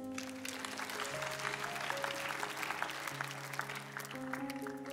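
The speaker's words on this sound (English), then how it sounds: "This is a clap for him." Congregation clapping during a church sermon, an irregular crowd patter of hands heard quietly with sustained organ or keyboard tones droning underneath.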